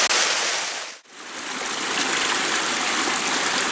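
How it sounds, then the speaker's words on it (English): A mountain stream tumbles down a small waterfall in a gully, a continuous close rushing and splashing that briefly dips, then swells back to a steady flow. "I just climbed up this little waterfall, following the stream up into this little gully."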